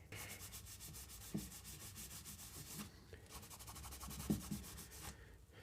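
Rapid scrubbing to clean gunk off a newly installed LED in a Sofirn BS01 bike light: fast, quiet, continuous rubbing strokes in two bursts, close to the mic with faint small knocks.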